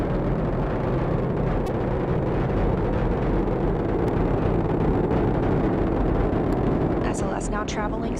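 The Artemis 1 SLS rocket thunders through max Q after liftoff, a dense, continuous low rumble and crackle with no pauses, loud and even throughout, with a commentator's voice over it.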